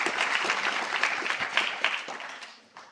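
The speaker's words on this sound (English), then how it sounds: "Yes, that deserves a round of applause." An audience at a medical school event applauds with dense, steady clapping that carries through the room and fades out over about three seconds.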